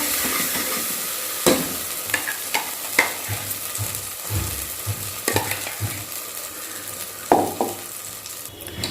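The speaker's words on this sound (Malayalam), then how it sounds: "ഈ എണ്ണ തെളിയണ വരെ ഒന്ന് ഇളക്കി കൊടുത്തോളൂ കേട്ടോ." Masala frying in oil for a pressure cooker egg biryani, a constant sizzle punctuated by several sharp spoon knocks and scrapes against the vessel at uneven intervals, close up with no speech.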